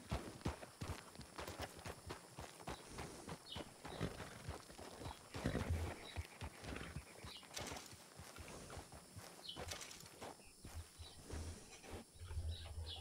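Horses in the video game Red Dead Redemption II clip-clop steadily on the ground, faint and irregular hoof beats continuing throughout with some outdoor ambience and occasional birds.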